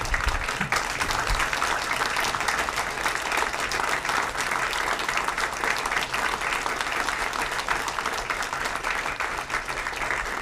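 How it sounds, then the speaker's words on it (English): Loud, sustained applause from a standing audience at a panel honoring Greg Tate, with dense steady clapping filling the room from start to finish. "If you can all stand on your feet and clap it up for the great Greg Tate one time."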